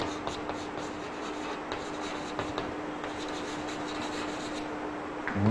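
Writing on a board during a physics lecture on friction makes a continuous close scratching and rubbing under a faint steady hum, with a few brief taps of the writing tool and no talking.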